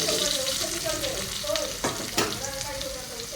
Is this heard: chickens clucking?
no